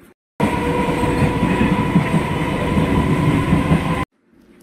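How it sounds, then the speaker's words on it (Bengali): Inside a moving passenger train, a loud steady rumble and rattle of the carriage on the rails is heard from on board. It starts and stops abruptly, with no voices. "উঠে পড়লাম ট্রেনে।"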